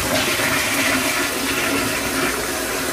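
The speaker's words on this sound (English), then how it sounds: "So when you flush..." A toilet in a Tokyo apartment bathroom flushes with a steady, loud rush of swirling water that holds evenly throughout, heard up close with no voices.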